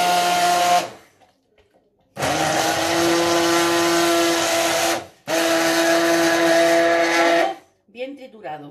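A kitchen blender purées cooked vegetables for a white bean and compango stew in three loud, close bursts of motor whine. Short quiet gaps separate the bursts, and a brief clatter follows the last one.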